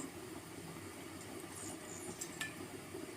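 Rice cooking in plenty of oil with beef stock for a Karacadağ rice pilaf, giving a faint, steady low sizzle and crackle throughout, with a few soft stirring scrapes.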